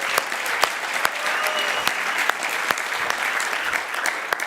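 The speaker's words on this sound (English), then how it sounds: "Let's give you a round of applause." An audience at the 2018 Imagine Cup World Championship claps in a steady, full round of applause, with sharper individual claps popping out of the dense patter throughout.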